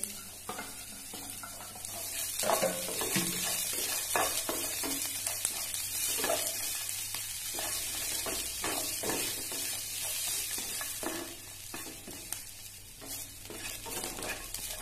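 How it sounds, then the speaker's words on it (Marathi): Black peas, onion and coconut roast in a pan, giving a continuous soft sizzle broken by repeated scraping stirs of a spoon against the pan, close and moderately quiet, with no talking. "तर वाटाणे भाजत आलंय बघू शकता"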